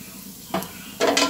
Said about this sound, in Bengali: আর এখন এই লাচ্ছা সেমাইগুলোকে আমি অল্প আঁচে ভেজে নিচ্ছি।